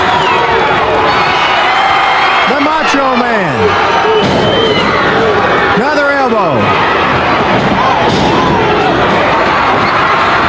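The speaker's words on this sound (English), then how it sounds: "The crowd responds" A wrestling crowd at an ICW event featuring Randy Savage cheers and roars steadily throughout, with thuds from the ring, while an excited commentator talks over the noise.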